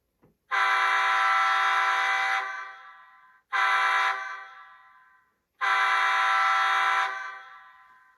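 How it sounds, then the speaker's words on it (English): Three blasts from the horn of an HO scale Burlington Northern EMD SD40-2 model locomotive, loud and close, each a sustained chord of several seconds that fades away, with short silent gaps between them. "When you blow the horn, the ditch lights will strobe at random intervals."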